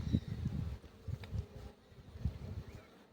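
A steady, close buzzing of many honeybees at a hive, droning continuously with a few louder passes near the microphone.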